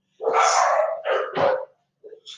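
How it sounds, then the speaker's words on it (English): A dog lets out three loud, close barks in quick succession, the first drawn out, followed by a couple of softer short yips. "that was my dog. That was the other dog."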